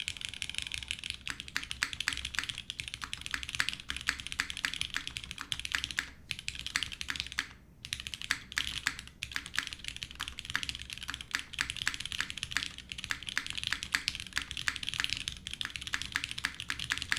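Rapid typing on an O-ring mounted mechanical keyboard with Ultra Glide switches, a dense, steady stream of light, thin clacks with a few brief pauses, close and quiet, with no voices.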